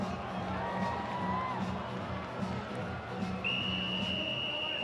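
A rodeo crowd cheers and whistles in a steady roar, with a sustained high whistle rising over the noise near the end.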